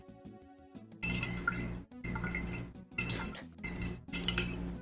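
Water sloshing and splashing inside a bottle about a fifth full, several close bursts of liquid movement separated by short pauses.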